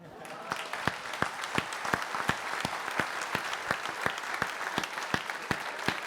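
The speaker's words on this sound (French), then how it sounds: "Applaudissements bien mérités pour Tapio Lehtinen" An audience at the official Golden Globe Race skipper presentation in Les Sables d'Olonne applauds skipper Tapio Lehtinen, a steady dense clapping with sharp individual claps standing out, moderately distant.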